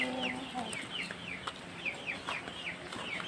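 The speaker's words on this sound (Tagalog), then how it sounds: "Pwede kang ituwang ang ating Rhode Island Backyard Chicken." Rhode Island Red chickens in a backyard flock cluck and chirp in quick repeated calls, fairly close but soft, with rustling in the background.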